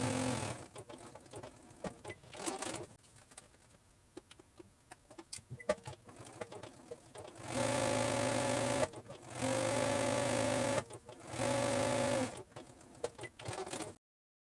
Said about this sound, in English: Let's go sew these 1/2 inch seam allowance.